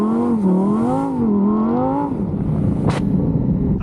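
Lamborghini Huracan Tecnica engine revving hard during rear-wheel-drive donuts, a loud, wavering sustained drone that rises and falls for about two seconds before settling into a rougher rumble with a brief sharp burst near the end.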